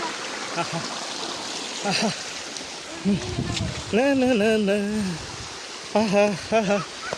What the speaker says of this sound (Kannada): ಇಲ್ಲಿ ನೀರು ಹರಿತಾ ಇರುವ ದೃಶ್ಯವನ್ನು ತೋರಿಸ್ತಾ ಇದ್ದೀನಿ